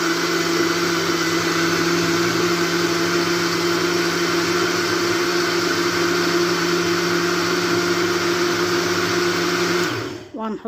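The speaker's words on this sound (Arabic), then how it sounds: "هحط البرتقال واضربها بردك في الخلاط" A blender blending oranges whirs loudly and steadily for several seconds, a constant motor hum, then winds down abruptly at the end.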